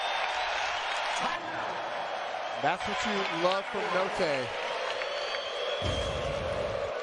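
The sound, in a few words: basketball arena crowd roaring and applauding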